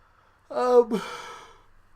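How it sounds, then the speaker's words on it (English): A person yawns once, a drawn-out voiced exhale that rises, breaks briefly and trails off softly, close and alone with no speech. "I'm just yawning all over the place"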